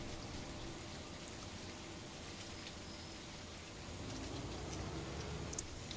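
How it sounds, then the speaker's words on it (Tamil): Rain falling steadily, a soft even hiss of drops on surfaces that continues unbroken and fairly faint throughout. "இந்த டைமில் தான் மழை வரணுமா?"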